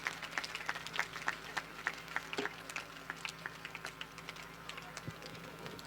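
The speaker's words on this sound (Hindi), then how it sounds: "पूरा सदन एक बार जोरदार तालियों से उनका अभिनंदन करें।" An audience at a school seminar claps in scattered, uneven bursts at moderate distance, the taps fairly faint and thinning out with low room murmur underneath.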